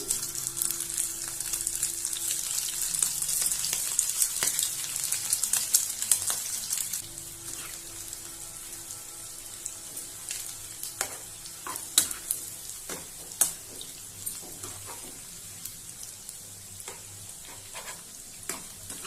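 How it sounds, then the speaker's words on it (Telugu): Boiled egg pieces fry in hot oil on a low flame for pickle: a bright, dense sizzle at first that settles into a quieter bubbling, with frequent spoon clicks and scrapes from stirring. "ఇలా ఇవన్నీ ఆయిల్లో వేసేసి వేయించుదాం"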